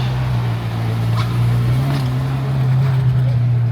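A Ferrari F430 Spider idling in a Monaco parking area, a steady low engine drone that holds loud and even throughout, with faint traffic and outdoor ambience layered above it.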